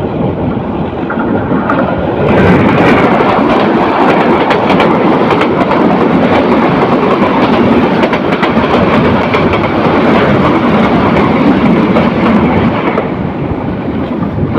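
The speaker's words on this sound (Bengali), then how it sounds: "সিলেট থেকে ছেড়ে আসা ঢাকা অভিমুখী পারাবত এক্সপ্রেস ট্রেনটি দ্রুত গতিতে ক্রস করে গেছে তিতাস কমিউটারকে" The Parabat Express roars past at speed on the Dhaka–Akhaura line, passing the Titas Commuter: a loud, continuous rush of wheels and carriages, with rumbling and clatter lasting throughout.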